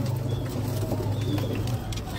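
A pigeon hen coos in a loft, a steady low repeated cooing that runs close and clear throughout, with faint chirps from other birds in the background.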